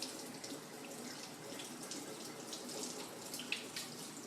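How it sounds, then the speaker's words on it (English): Running tap water splashes steadily as food is rinsed beneath it in a home kitchen sink, a continuous close hiss with slight fluctuations and a brief spike near the end. "just do a quick rinse to make sure there's no bacteria on it"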